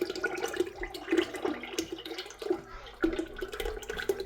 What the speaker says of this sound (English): Let's go on ahead and put in our lye solution.